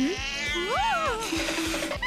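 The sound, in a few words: cat meowing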